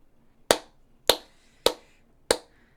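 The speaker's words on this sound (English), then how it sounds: "I'm clapping right now" One person claps four single, evenly spaced hand claps, sharp and close, with near silence between each clap and no talking.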